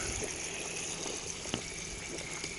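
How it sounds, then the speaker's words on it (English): Steady rushing water runs continuously as it fills an RV water tank, with a faint click partway through and no voices. "And the water's going in."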